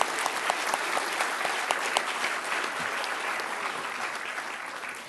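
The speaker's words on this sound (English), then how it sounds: "Do join me in a round of applause to thank the Prime Minister for making time to be with us." Polite audience applause at a formal ceremony, thanking the Prime Minister of Malaysia, even and sustained, moderately distant and fairly soft, with no speech over it.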